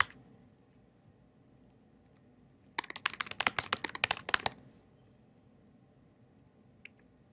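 Quick bursts of keystrokes on a laptop keyboard as a file name is typed, a close, crisp clatter lasting about two seconds in an otherwise quiet room.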